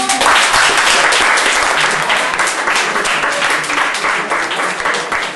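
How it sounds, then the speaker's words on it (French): Audience applause at a general assembly, dense steady clapping from a crowd filling the room, loud and close, slowly tapering near the end with no voices on top. "Oui, on peut les applaudir."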